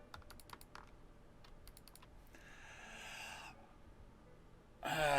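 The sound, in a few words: computer mouse left and right clicking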